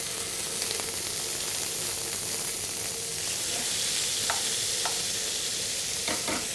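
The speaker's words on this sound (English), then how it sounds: "ready for salmon to fry." Small marinated salmon pieces sizzle steadily in a preheated pan, a continuous close frying hiss with a few sharp spatters and light stirring clicks near the end.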